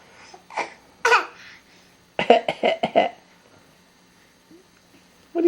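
A little bird gives several short, soft fake coughs in quick succession at close range, between brief babbling and giggly vocal sounds.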